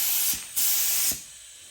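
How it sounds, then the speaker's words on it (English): Aerosol spray paint hisses in short bursts onto a two-door Chevrolet Blazer being painted, two to three close, loud sprays separated by brief pauses. "Don't spray what he's already sprayed."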